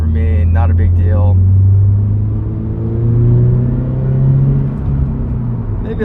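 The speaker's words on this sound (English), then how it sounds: "a little bit of induction noise. That was pretty much wide open throttle in 3rd gear." 2026 Toyota GR86 with a GR intake pulling at wide open throttle in third gear, a loud steady engine drone rising in pitch with induction noise, heard from inside the car, with a voice briefly at the start.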